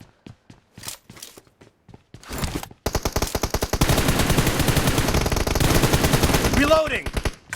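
Rapid video game gunfire: a few scattered single shots, then a brief burst, then sustained machine-gun fire with dense, evenly spaced rounds, loud and close, with some mechanical clatter near the end.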